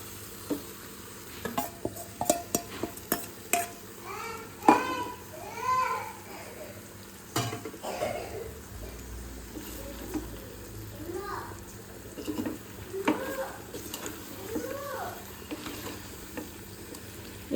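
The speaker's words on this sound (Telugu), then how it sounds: "ఇప్పుడు మనము ఈ గోటు తలకాయనైతే ఇందులో వేసేసుకుందాం." Pieces of goat head frying and being stirred in a pan for a festive non-veg dish, steady sizzle with scraping stirs and clinks throughout, close by.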